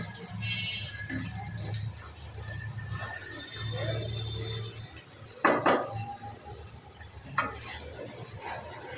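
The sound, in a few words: stirring and cooking spice paste in a pan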